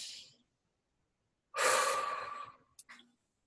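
A group of people takes a deep breath together, a loud broad rushing inhale and exhale lasting about a second, then a couple of short faint breaths, with quiet gaps before and after.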